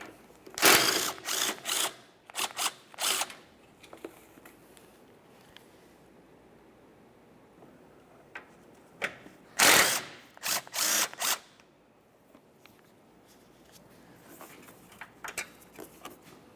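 Ratchet wrench clicking as 12mm bumper mounting bolts come out of a 1994-1997 Honda Accord, short bursts of close mechanical ratcheting separated by quiet pauses.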